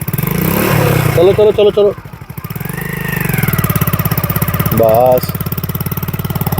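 Motorcycle engine chugging steadily in first gear as an elderly grandfather rides the bike for the first time, close and loud with a rhythmic putter, while people talk over it.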